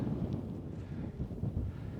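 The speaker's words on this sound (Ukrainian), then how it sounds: "Так, тут зараз трошки здійнався вітер." Low, steady wind buffets the microphone with a continuous rumbling rush.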